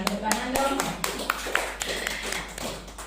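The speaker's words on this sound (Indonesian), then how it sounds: "Ya, tepuk tangan dong." Seminar audience in Tabanan breaking into scattered applause, a run of sharp hand claps spread over a few seconds, moderately loud in a room with voices murmuring underneath.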